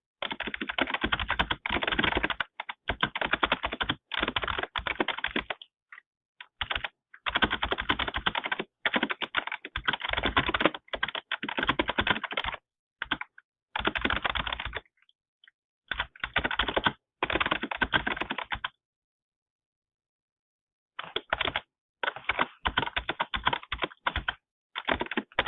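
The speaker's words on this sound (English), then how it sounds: "we're going to type this out to make it more realistic" Rapid, close clatter of keys on a computer keyboard, typed in bursts with a few short pauses between runs.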